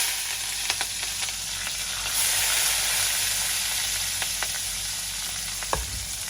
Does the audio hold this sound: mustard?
yes